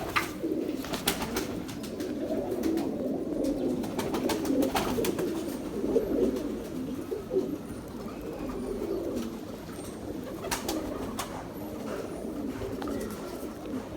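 Pigeons cooing steadily at a pigeon loft, soft repeated low coos overlapping throughout with occasional faint chirps and brief clicks, moderately close and with no talking.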